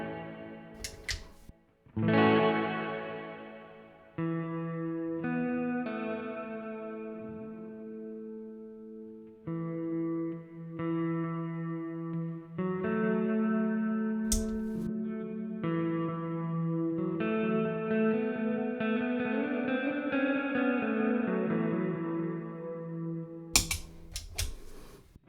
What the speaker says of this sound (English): we put the delay in front of it.